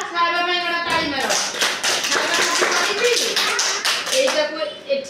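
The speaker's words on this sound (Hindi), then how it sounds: "ताली मारो" A group of participants at a training-session activity clap their hands together in a dense, continuous burst of overlapping claps, with voices talking over the applause throughout.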